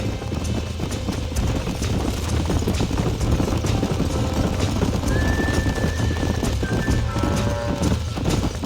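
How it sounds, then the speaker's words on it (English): Horses in the video game Red Dead Redemption, with steady clip-clopping hooves throughout and a high whinny near the end, loud and close at a ranch. "These are fine horses."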